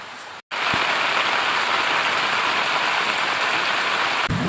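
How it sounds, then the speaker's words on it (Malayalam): Steady, heavy rain hisses continuously on surfaces after a brief silent gap at the start, loud and close with no voices. "ഹാപ്പി ആയിട്ട് ഇങ്ങനെ മഴ നനഞ്ഞുകൊണ്ടേ ഇരിക്കുക"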